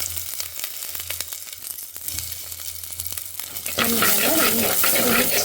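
Onions tipped into hot oil for fish curry, light stirring and scraping first, then a sudden loud, steady sizzle that fills the last stretch, close to the pan.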